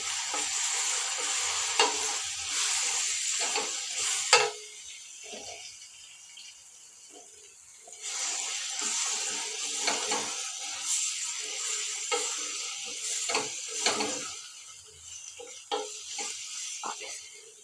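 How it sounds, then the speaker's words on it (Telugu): Ground coriander and coconut chutney paste is stirred into a sizzling tempering in a pan. Bursts of frying hiss and spoon scraping come close and loud, then drop to a quieter stretch midway before the sizzling stirring resumes. "ఇది మొత్తం కూడా పోపులో కలిసేలాగా నేను తిప్పుకుంటున్నాను."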